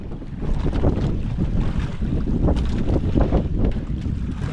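Strong wind gusts across open sea beside a small boat, a loud, continuous buffeting rumble over the microphone mixed with water noise, close and unbroken, with no clear talk.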